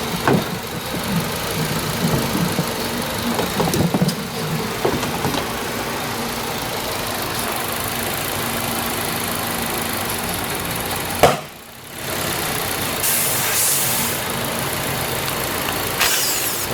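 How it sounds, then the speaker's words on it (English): A Toyota Matrix engine idles with a cylinder 2 misfire from a failing ignition coil, giving a steady, close mechanical drone with uneven stumbles and a brief dip partway through. "I can see the engine missing."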